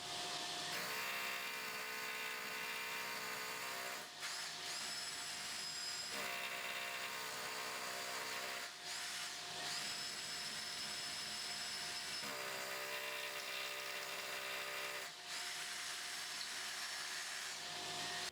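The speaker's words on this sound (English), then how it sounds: "to make it easy we're going to use a SDS drill" An SDS drill grinds continuously into a dot-and-dab wall, boring a 10mm hole, loud and close, with a few brief dips where the motor eases before resuming.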